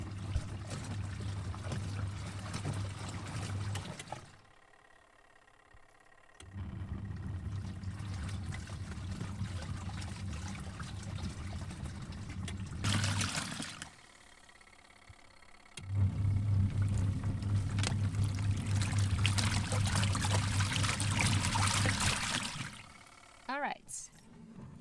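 A TecTake portable mini washing machine runs its wash cycle in on-and-off bursts, a low motor hum with sloshing water that stops and restarts several times, separated by quiet gaps.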